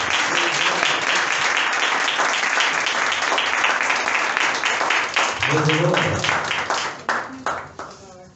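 A church congregation applauds loudly and steadily, a thick wash of many hands clapping that carries on for several seconds, with a voice briefly speaking over it before the clapping trails off.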